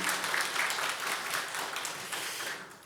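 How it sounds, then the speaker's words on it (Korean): Church congregation applauding during Sunday worship to welcome a member: a steady, dense wash of many hands clapping at moderate loudness, continuous throughout and slowly tapering toward the end. "우리 박수로 환영하겠습니다."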